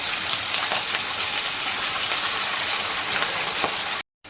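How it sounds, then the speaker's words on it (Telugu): Fish pieces for pickle fry in a generous amount of hot oil, giving a loud, dense, continuous sizzle with a few crackles before it cuts off abruptly near the end. "చూడండి, ఇప్పుడు ఫిష్ వేస్తున్నా."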